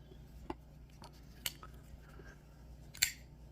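TwoSun TS380 folding knife with titanium and carbon fiber handle being opened and closed, a few faint sharp clicks and snaps spaced over a few seconds in quiet surroundings.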